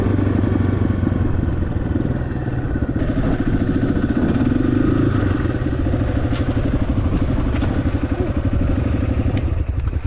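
A dirt bike engine runs steadily and close throughout, with a continuous mid-pitched motorcycle drone and light mechanical clatter while being ridden on a beginner's first ride.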